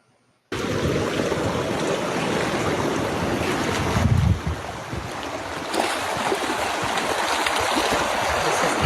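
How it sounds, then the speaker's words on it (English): Water rushing along a newly formed river in a Saudi Arabian desert, a steady loud broadband roar with wind buffeting the microphone, continuous from just after the start to the end. "So first we have a river that is forming in Saudi Arabia."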